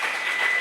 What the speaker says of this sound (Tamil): நல்லா கைத்தட்டிருங்க இவங்களுக்கு.